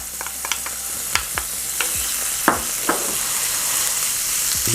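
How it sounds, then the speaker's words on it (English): Ginger dropped into a hot pan with a tablespoon of oil and butter, sizzling steadily with several sharp crackles and spatters scattered over the hiss, close and fairly loud. "gonna hit this hot pan with a little bit of oil, about a tablespoon, and then straight in with our butter. I'm gonna start off with our ginger."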